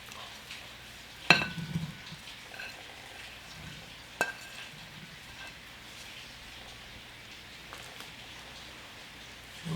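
Garlic cooking in a pan for a soy-braised tofu dish, a faint steady sizzle with a few sharp clinks of a utensil against the pan and no talk.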